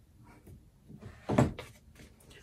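A sewing-room drawer, holding twill tape, slides open with one brief, fairly close scrape and knock, followed by faint softer handling sounds.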